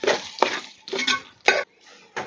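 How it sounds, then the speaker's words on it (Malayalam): Masala being stirred and sautéed in a pan for a village-style Kerala duck curry: a few separate bursts of scraping and clattering, fairly close, with short quiet gaps between strokes. "അതുകൂടെ ഇതിനകത്തേക്ക് ഇട്ട് കൊടുത്ത് ഒന്ന് വഴറ്റിയെടുക്കാം"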